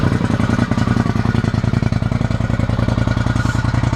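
A Polaris Scrambler 850 ATV engine on its stock exhaust idles with a fast, even, throbbing pulse, loud and close, with no voices.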